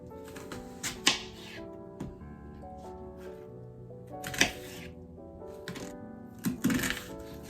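Knife chopping a medium onion on a board, a few separate sharp cutting knocks spaced seconds apart over background music.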